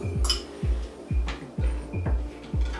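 Chopped vegetables are stirred into a dish with a utensil, giving a steady rhythm of about eight dull knocks and scrapes against the bowl, close and without talk.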